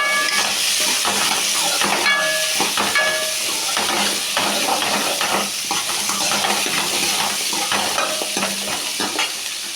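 Whole small shallots fry loudly in hot oil as they are stirred in a pan, a dense hissing sizzle with repeated scraping and clacking strokes throughout, close and without speech.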